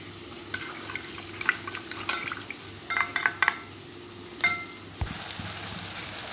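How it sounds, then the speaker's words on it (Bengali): Spoon stirring cumin, chili and turmeric powder into water in a small bowl, with soft clinks and scraping taps against the vessel in short bursts, close and fairly quiet over a faint kitchen background. "এই মশলাটাকে আমি জলে মিশিয়ে নিচ্ছি"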